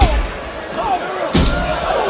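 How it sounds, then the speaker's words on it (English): A wrestler is slammed knee-first into the steel ring steps during a SmackDown tag-team match: one sudden heavy crash midway, over steady arena crowd noise and a commentator's voice. "Slams him right into the steel steps"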